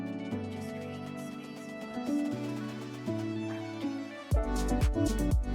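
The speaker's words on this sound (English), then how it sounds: "very subtle snare build up" FL Studio track with a subtle snare build-up, soft repeated hits rising under sustained melodic synth tones before the music swells into a fuller, louder section near the end.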